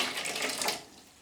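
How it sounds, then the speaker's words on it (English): Water wrung from a sponge splashes and trickles into a container beside a close-coupled toilet, a short, close, steady gush that tapers off after about a second. "wring it out in your container or wring it out in the toilet pan"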